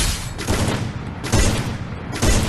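Rapid bursts of gunfire from the Free Fire video game, loud and dense, with three heavy volleys crowding together and no talk over them.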